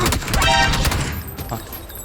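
Gunfire in the battle-royale game PUBG: a loud burst of rapid shots crowding the first second, then thinner, scattered reports trailing off, with no speech.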